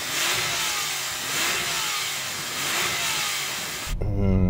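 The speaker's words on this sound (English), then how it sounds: "Let's hear the 997." Porsche 911 Turbo, 997 generation, revving with a sustained loud engine roar that swells and eases in waves, close by, ending with a sudden lower idling rumble.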